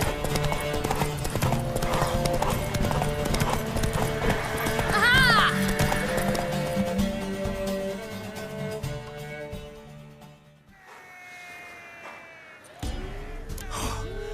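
Hooves pound in a fast galloping rhythm in The Witcher 3: Wild Hunt, under a strained, gasping voice and a horse's whinny, then the hoofbeats fade to near quiet before resuming briefly.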